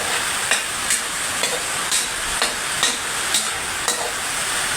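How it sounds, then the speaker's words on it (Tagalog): Garlic, onion and ginger are sautéed in a pan for mung bean stew, a continuous close sizzle punctuated by regular spatula scrapes about every half second. "Ya, gisa-gisa muna tayo, gisa-gisa."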